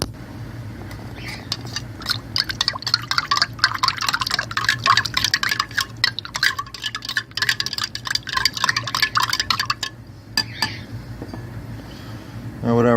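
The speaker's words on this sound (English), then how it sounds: "we're going to add a little bit of water and mix this up again" Water being added to an ormus base and stirred in a container, a busy close sloshing and clinking that stops abruptly near the end, with a voice talking over parts of it.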